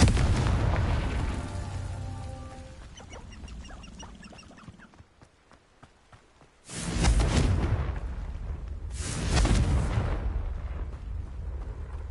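Confringo blasting spells going off in Hogwarts Legacy, two heavy booming explosions arriving a couple of seconds apart, loud and close, after a stretch of quieter game sounds and music that fades almost to silence.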